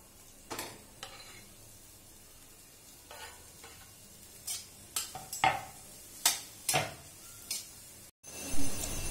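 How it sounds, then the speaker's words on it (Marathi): Potato pieces are stirred into frying onion in a pan, a soft sizzle under a run of sharp, uneven spoon scrapes and clinks against the metal, the last one louder and closer. "आणि मग आपल्याला त्याच्यामध्ये घालायचे बटाट्याच्या फोडी।"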